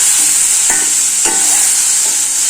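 Chayote and tomato with curry leaves sautéing in a pan, a steady bright sizzle with a few scraping spatula strokes at intervals, close and alone with no talk.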